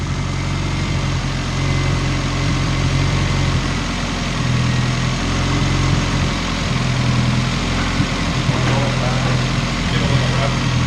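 Turbocharged Honda CR-V engine idling just after its first start, a loud steady low rumble with a faint uneven pulse, while people talk over it.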